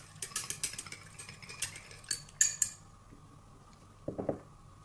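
Sticks or a utensil clink and scrape softly against a glass container as a mixture is stirred, quick light taps in short bursts with pauses between.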